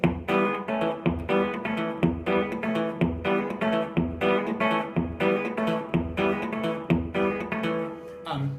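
Fast blues guitar pattern mixing plucked bass notes, hammer-ons and muted dead-string strokes in a steady driving rhythm, played alone at moderate level.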